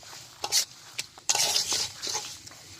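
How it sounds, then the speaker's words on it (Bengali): Spices with coriander powder being stirred and fried in a pan for a chicken and potato bhuna, with scraping spoon strokes and light sizzling in irregular bursts, close and moderately loud, no talking. "আমরা দিয়ে এবার নাড়াচাড়া করছি বা ভেজে নেওয়ার চেষ্টা করছি"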